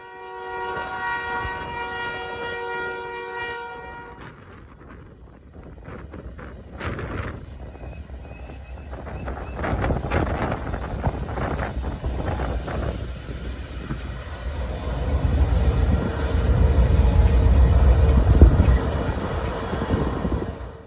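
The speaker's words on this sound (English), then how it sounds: "Here, the train is coming to a stop at a grade crossing at exactly milepost 283." A freight train hauling ethanol, led by a BNSF locomotive, sounds its horn in long blasts, then the low rumble and clanking of rail cars slowing to a stop at a grade crossing, with wind buffeting the microphone.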